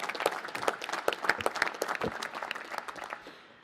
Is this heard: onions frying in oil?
no